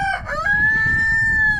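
A rooster in a rooster pen on a farm crows once, a loud, close, sustained cock-a-doodle-doo lasting over a second, with no talking.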